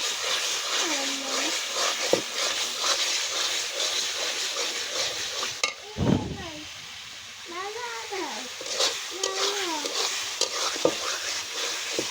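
Taro and coconut frying in oil in a pan as it is stirred, a steady close hiss with scraping under a voice and adult speech, including a high, singsong voice.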